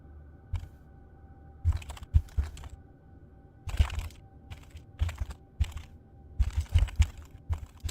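Typing on a computer keyboard up close, irregular bursts of quick clicky keystrokes separated by short pauses, fairly quiet in an otherwise still room.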